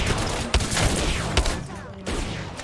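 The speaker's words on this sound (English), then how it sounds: "I shot him in the head." Video game gunfire in a fast shooter match, a loud dense burst of rapid shots with a couple of sharper impacts and a brief lull before the firing resumes.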